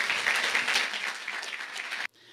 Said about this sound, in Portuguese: Vamos receber o nosso palestrante com um carinhoso aplauso